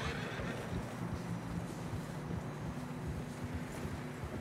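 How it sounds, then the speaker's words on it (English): Horses struggle through deep fresh snow in the video game Red Dead Redemption 2, with low, faint, continuous rumbling and muffled hoof movement under soft wind. "Horses are struggling."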